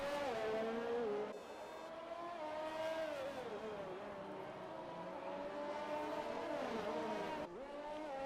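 Race cars driving on a track in a racing video game, engines whining and revving through gear shifts, a steady loud drone with pitch rising and dropping, no voices.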